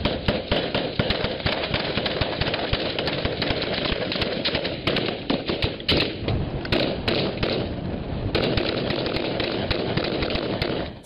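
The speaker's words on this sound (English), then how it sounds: "Go ahead, warning shot." A warning shot is fired at a pirate skiff at sea, heard as dense, sharp reports and thuds buried in constant loud engine and wind noise.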